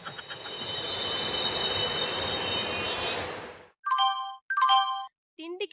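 In a Christmas skit, a train sound effect plays with a loud rolling rumble and high squealing wheels for about three seconds, then cuts off. A few short electronic beeps and tones follow.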